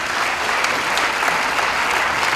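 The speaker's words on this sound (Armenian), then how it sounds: "բերենք եւս մեկ անգամ մեր ջերմ ծափողջները մեր հրաշալի երգչին" An audience applauds a singer at a 65th-birthday celebration for the ashugh Razmar Sasuntsi, with dense, steady clapping that fills the hall from start to finish at full strength.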